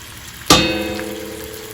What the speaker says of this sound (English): So now my vegetables have begun to saute in the Dutch oven